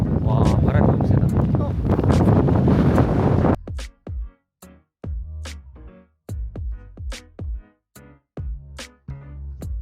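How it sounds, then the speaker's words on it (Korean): Strong outdoor wind buffets the microphone with a loud, rumbling roar for a few seconds, then people talk in short bursts while the wind noise continues. "와, 바람이 너무 세다."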